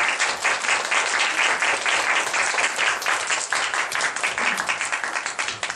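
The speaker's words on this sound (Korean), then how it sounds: "감사의 박수를 한번 보내드립니다" An audience at a leadership lecture gives sustained applause of thanks, dense steady clapping that fills the room at full loudness with no talk over it.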